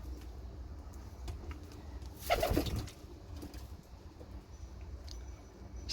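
A baby pigeon gives a brief cluster of soft peeping and cooing calls, close and quiet, over a faint steady background hush with no talking.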